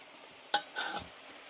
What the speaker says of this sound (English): And then we are going to mix it through like this.